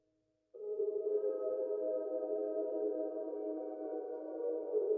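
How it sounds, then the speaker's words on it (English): FL Studio hip hop beat playing back: a steady, sustained synth tone enters after a brief silence and holds evenly to the end, with no voices. "I'm gonna play this beat now so you can hear like what it sounds like fully."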